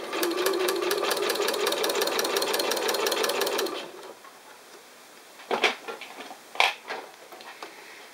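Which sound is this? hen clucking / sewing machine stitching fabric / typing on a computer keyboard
sewing machine stitching fabric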